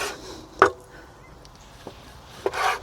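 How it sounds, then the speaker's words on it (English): A sharp knife slicing pork into thin slices on a board, with a few distinct chopping knocks spaced a second or so apart, close and fairly crisp against a quiet room. "I'm going to cut my pork"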